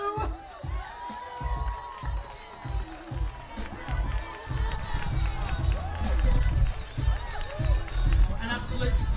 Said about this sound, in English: Please keep that applause going for contestant number 2.